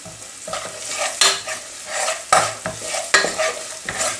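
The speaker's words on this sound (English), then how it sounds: "next add the ground spices. Stir into the oil" Ground spices sizzle in hot oil over medium heat with chopped onions, stirred in quick sweeping strokes that push out bursts of crackle roughly every second, close and fairly loud.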